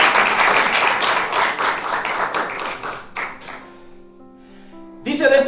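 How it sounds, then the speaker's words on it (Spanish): A church congregation applauds in a dense, steady burst that fades out around the middle, leaving sustained organ or keyboard tones, then a brief loud swell at the end. "¿Cuánto le da un aplauso al Señor?"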